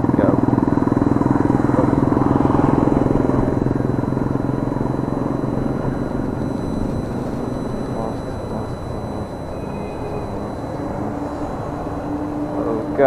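Yamaha R1 superbike engines on a group ride, a loud continuous roar that stays strong and then eases slightly with shifting pitch, while a rider talks over it.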